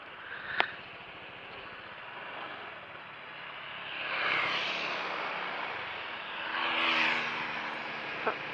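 A motorcycle engine hums steadily at a moderate distance, swelling louder twice as if revving, with a couple of short clicks.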